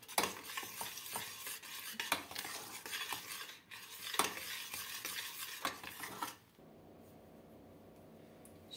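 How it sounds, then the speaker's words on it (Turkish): A utensil stirs a chicken filling for crepe bundles in a hot pan, with repeated clinks and scrapes over a light sizzle, close and clear, before the stirring stops and only a faint hiss remains. "Altını kapatıp karıştıracağım."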